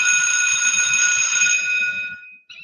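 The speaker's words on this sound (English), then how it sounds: "Things that vibrate fast make high-pitched sounds," A high, steady electronic alarm rings loudly and continuously for about two seconds, then cuts off abruptly, followed by a brief faint sound.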